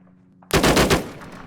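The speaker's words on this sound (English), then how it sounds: "They're panicking, sort of firing all over the place." After a brief quiet hum, a close burst of rapid automatic fire lands about five quick shots. A short tail follows as the shots fade. The setting is the military shooter Arma 3, in a multiplayer King of the Hill match.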